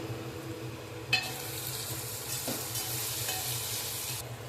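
Spice masala with asafoetida is stirred into sizzling oil in a pan, with a sharp spatula scrape near the start followed by steady frying hiss and repeated mixing strokes.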